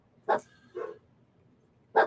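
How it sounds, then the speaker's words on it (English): A pet dog barks three times from indoors, two quick barks close together and a third after a pause, fairly close and clear with no talk. "my dog is a barking"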